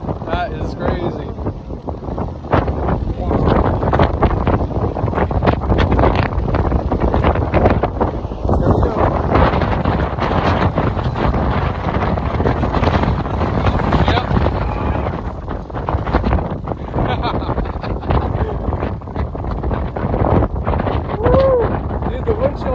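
High winds during a storm with hail in Pennsylvania roar and buffet the microphone in loud, continuous gusts, with voices faintly mixed beneath the rushing noise.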